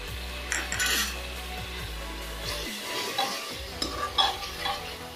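Chili powder being stirred into mutton curry in a pan, a close scraping and clinking of a metal spoon against the pan over a low sizzle, a steady hum fading out partway through.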